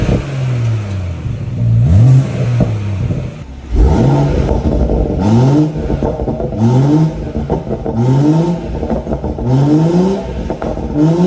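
BMW M140i with a B58 engine and decat downpipe revs repeatedly, loud close exhaust blips rising and falling in a rhythmic series with short pauses between bursts, nothing else heard.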